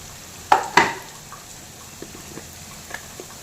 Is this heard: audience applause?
no